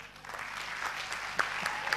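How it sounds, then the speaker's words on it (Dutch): A conference audience applauds in a soft, steady patter of many overlapping claps, fairly distant and even, with a few sharper individual claps standing out. "Oh, applaus voor jezelf."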